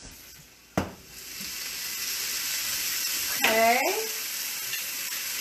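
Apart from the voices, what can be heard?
beef stir fry sizzling in a pan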